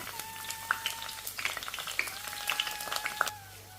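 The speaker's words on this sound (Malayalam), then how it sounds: "നമ്മളിതിലേക്ക് എടുത്തു വെച്ചിട്ടുള്ള ആ മൂന്ന് വെളുത്തുള്ളി ഒന്ന് മൂപ്പിക്കാൻ ഇട്ട് കൊടുക്കാം" Mustard seeds and garlic frying in hot oil, a continuous light sizzle with scattered sharp pops and crackles from the spluttering seeds, close up with no talking.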